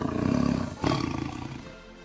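A tiger near a village in Chamarajanagar lets out a deep, rumbling roar, a growling stretch followed by a sharp burst just before the one-second mark that tails off into lower rumbles, with no talk.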